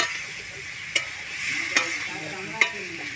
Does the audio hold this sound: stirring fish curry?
yes